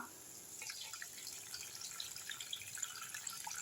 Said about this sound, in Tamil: இப்போ புளி தண்ணியை எடுத்து ஊற்றிடலாம்